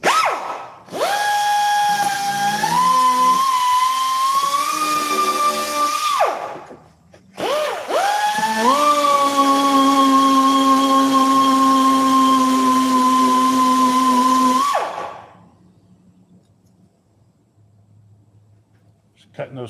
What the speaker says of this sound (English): that die grinder really puts the work in.